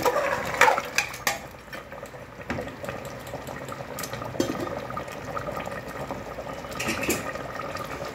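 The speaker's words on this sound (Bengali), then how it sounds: "এবার আমি নেড়ে মুখ বন্ধ করে দিচ্ছি।" Mutton being stirred in a cooking pot over a gas burner, with scraping spoon-on-metal clinks, bubbling sizzle and a few sharper knocks early on, fairly close with no speech.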